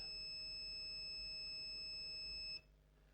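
A continuity tester emits a steady, high electronic beep tone while checking a coil to ground on a laptop board, holding continuously, then cuts off abruptly near the end, leaving quiet hum.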